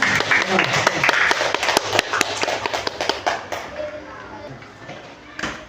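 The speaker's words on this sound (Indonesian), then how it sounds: "Semuanya tepuk tangan untuk kita semuanya." A classroom of children claps hands together, a loud close patter of sharp overlapping claps that thins out and stops partway through, with voices mixed in.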